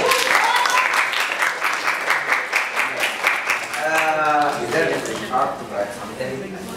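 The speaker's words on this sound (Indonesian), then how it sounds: "aku minta boleh kita tepuk tangan untuk kita semua yang ada di sini" Students in a public class clap for everyone present, a burst of rhythmic applause that fades as a voice starts talking over it.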